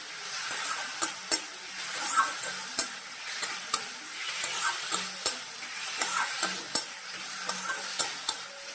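Potatoes being sautéed with a spice paste in a pan give a steady sizzle, with regular sharp scrapes and clicks of a spoon stirring against the pan, close and alone with no talk.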